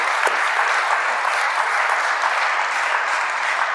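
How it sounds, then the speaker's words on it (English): An audience at a law journal event applauds the professors, producing dense, continuous clapping that stays loud and steady throughout, close and filling the room. "So let's give them a round of applause as a big appreciation."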